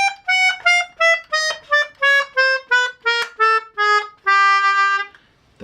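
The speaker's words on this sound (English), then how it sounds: "we've played on our keyboard here what you call a chromatic scale" A DG melodeon plays a descending chromatic scale, about a dozen reedy notes stepping down semitone by semitone in an even rhythm, with the last note held longer before silence.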